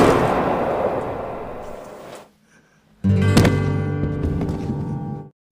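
A film gunshot in a dramatic shootout: a broadband blast that decays over two seconds, a brief near-silence, then a second sharp loud report with a ringing tail.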